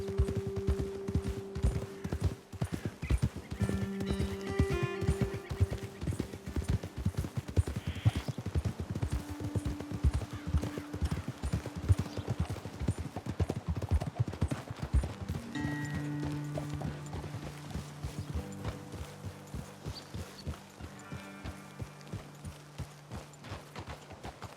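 Steady, rhythmic clip-clop of horse hooves at a walk continues throughout, with a faint musical tone and low background noise, from the video game Red Dead Redemption 2.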